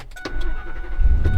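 A 2001 Ford F-150 SVT Lightning pickup engine cranks and catches, then settles into a steady low rumble that swells slightly near the end.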